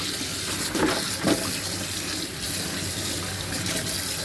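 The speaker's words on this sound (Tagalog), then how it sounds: "hugasan natin ang ating rice" Rice is washed under a running kitchen tap, giving a steady close hiss of flowing water with a few louder splashes as the grains are stirred, with no voices.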